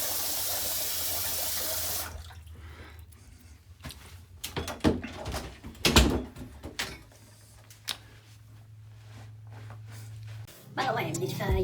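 A bathroom tap runs into a sink to rinse a razor after shaving, a steady hiss that gives way to splashing and clinks, then the flow resumes at the end, with someone speaking in between.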